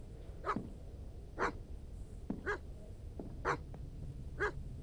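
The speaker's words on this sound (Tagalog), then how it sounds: "So, ano yung tinatawalang aso na to?" A dog barks five times at a steady, unhurried pace, moderately close, with no voices.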